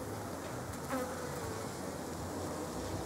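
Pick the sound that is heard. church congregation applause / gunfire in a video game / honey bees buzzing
honey bees buzzing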